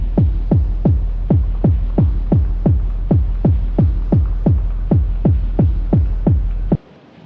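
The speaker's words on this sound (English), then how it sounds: "This sound here is a snippet from a field recording that I did just recording my dishwasher." A processed field recording of a home dishwasher, turned into a loud, regular low throbbing pulse repeating about every half second before cutting off abruptly near the end.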